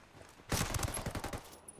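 Automatic gunfire in the video game Ghost Recon Wildlands: after a quiet start, a loud, rapid string of close shots rattles for about a second, then trails off.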